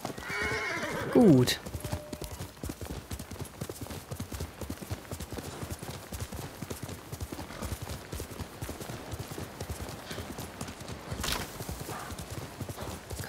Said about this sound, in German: Jetzt gucken wir mal, wo unser Pferd herkommt.